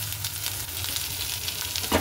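Ginger sizzles in hot oil with cumin seeds, dried red chilli and green chillies, a steady close crackle with soft stirring throughout.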